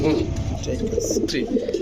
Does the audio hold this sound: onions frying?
no